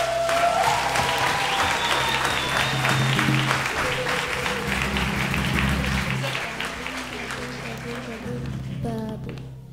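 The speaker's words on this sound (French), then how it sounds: "Est-ce qu'on peut les applaudir bien fort?" Enthusiastic congregation applause during a Christmas church service, loud continuous clapping mixed with crowd voices and some background tones, gradually easing toward the end.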